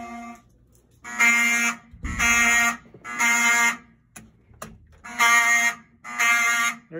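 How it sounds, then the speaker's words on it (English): A fire alarm sounds in loud, repeating electronic bursts of about a second each with short gaps, close by, with a brief low thump under one burst. "That's a fire alarm."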